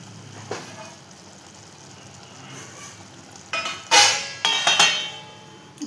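A lid goes onto a cooking pot holding a vegetable dish, with a few sharp, close metallic clanks and clinks bunched near the end after a quiet stretch.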